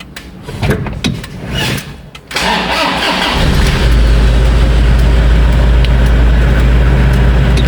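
A Toyota Innova, recently fitted with a new timing belt and showing a blinking T-belt warning, cranks briefly under a starter whine, then catches and settles into a loud, steady idle close by.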